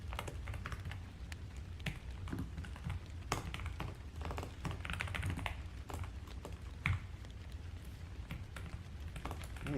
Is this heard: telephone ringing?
no